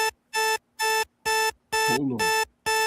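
A timer buzzer goes off in a loud, harsh repeating pattern of evenly spaced bursts, with a voice briefly speaking over one of them.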